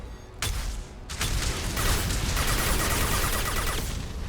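Shotgun blasts in Mass Effect 2 combat crack out as heavy, loud bursts, an opening shot followed by a dense run of overlapping gunfire and explosive rumble that keeps going for several seconds.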